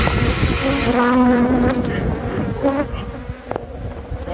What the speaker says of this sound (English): It's killer bees.